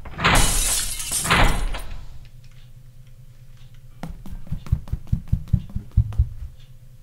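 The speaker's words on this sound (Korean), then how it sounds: "이 오래된 램프를 아래에 떨어뜨리면?" An old lamp dropped in a horror video game, bursting with a loud, close glass shatter and a crash, then a run of light, quick, evenly spaced ticking taps.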